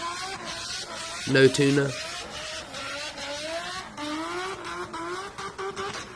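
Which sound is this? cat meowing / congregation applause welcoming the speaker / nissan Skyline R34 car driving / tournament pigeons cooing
nissan Skyline R34 car driving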